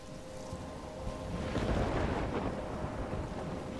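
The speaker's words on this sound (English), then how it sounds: "I'm trapped in a storm?" A thunderstorm in the Life Is Strange game rumbles as a deep, rolling roar that swells midway, mixed with steady rain and wind noise at moderate volume, with no talk.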